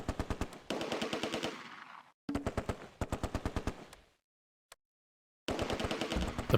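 MG42 machine gun fire in the Close Combat WWII strategy game: loud, rapid bursts of rattling shots, several long strings broken by short pauses and one longer silence with a lone shot, then firing resumes.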